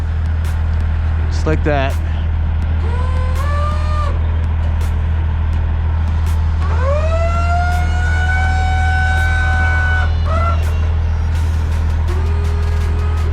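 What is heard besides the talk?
car hauler truck decks being lowered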